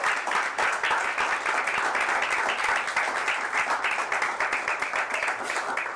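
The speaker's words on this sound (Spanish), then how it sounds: "Bríndale un aplauso al Señor" Church congregation applauding together, a dense, steady wash of many hands clapping close and loud for the full stretch, with no talk over it.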